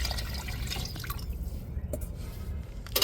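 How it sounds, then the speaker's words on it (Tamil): Ground coconut mixed with water trickles and drips into a pot of dried fish curry, a steady wet splashing pour with a few sharper drips near the end. "நம்ம அரைச்சி வச்ச தேங்காய் தண்ணி சேர்த்துக்கிடுவோம்."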